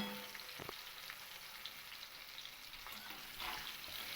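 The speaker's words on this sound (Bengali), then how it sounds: "মাছগুলো কিন্তু খুব ভালো করে ভাজা হয়ে গেছে একবারে লালচে কালার করে ভেজে নিয়েছি" Pieces of katla fish fry in hot oil, giving a soft, steady sizzle with a couple of faint utensil taps. It is quiet and close, with no talking.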